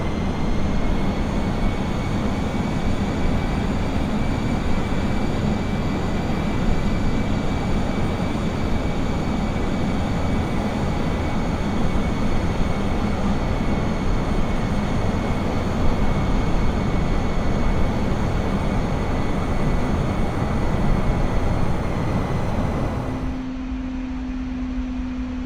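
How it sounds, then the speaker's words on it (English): Simulated Embraer E175 airliner taxiing in Microsoft Flight Simulator, a steady loud engine rumble and whine droning continuously, the tone dropping and settling near the end. "we will release the parking brake, and we will taxi down to 35 left"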